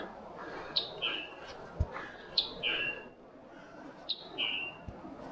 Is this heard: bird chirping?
yes